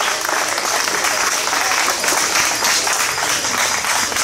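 A crowd at a cycling race applauds the stage winner, steady dense clapping held at full level throughout, with an announcer's voice carrying over it.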